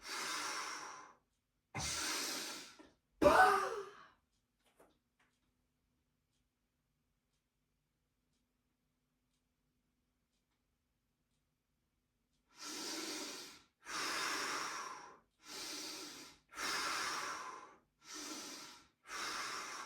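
Breathing during a leg-extension exercise: a few strong exhalations, then a long silence, followed by a steady series of six or seven forceful, evenly spaced breaths, close up with no talking.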